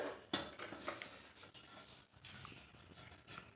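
Chowmein is tossed and stirred with fried vegetables in a pan, giving faint clinks and scrapes of a utensil against metal, a sharp knock near the start, all quiet and close.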